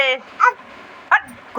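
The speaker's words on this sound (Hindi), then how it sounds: "कुत्ता" A dog gives three or four short, sharp yips or barks at a home where a family prayer is under way, each bark brief and close, with quiet gaps between them.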